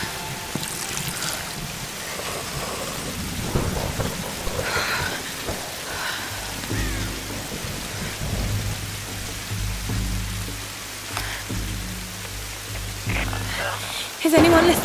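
Rain and a thunderstorm in the video game Tomb Raider, a steady wash of rainfall with low rumbling thunder and gusts throughout, with a louder burst near the end.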